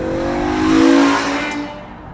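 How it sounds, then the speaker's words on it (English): The V10 engine of a manual BMW M5 Touring revs up hard and close, a loud steady howl that swells and then eases off. "you have that engine again"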